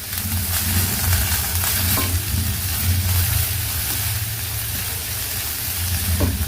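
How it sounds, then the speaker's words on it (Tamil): Onions frying in a pan with a steady sizzle and hiss, occasional stirring scrapes, and a low hum underneath. "நல்லா வதக்கி விட்டுடுங்க"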